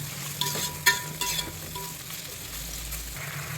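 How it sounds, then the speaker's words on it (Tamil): Eggplant and onions sizzle and fry in oil with a soft steady crackle, punctuated by a few scraping clinks of a spoon stirring in the pan. "இந்த கத்திரிக்காய் நல்லா அந்த எண்ணெயிலே வதங்கிடணும்"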